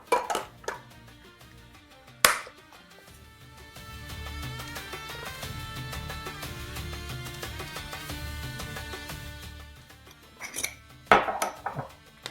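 A spoon clinks and scrapes in a bowl while a thyme spice rub for turkey is mixed, close clattering taps at the start and end around a softer stretch of stirring, with no talking.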